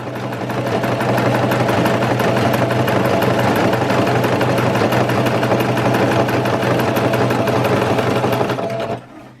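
A domestic sewing machine stitches fabric at a steady fast rhythm, loud and close, running continuously for about nine seconds before stopping abruptly; no talking.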